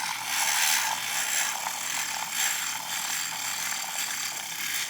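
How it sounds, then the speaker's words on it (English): An electric handheld whisk blends matcha with milk in a kitchen, giving a steady high buzzing whir that is close and continuous throughout with no talk. "So I'm just gonna use my handheld whisk."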